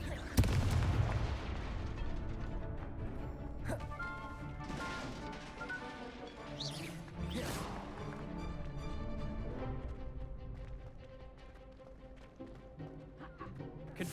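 Blasting spell explosions from the Hogwarts Legacy video game, with heavy booms and crashes over dense game music and effects, loud and continuous, and brief in-game voices mixed in.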